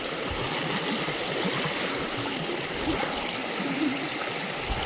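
A river stream rushes steadily nearby, its continuous loud broadband flow filling the scene without pause or voices.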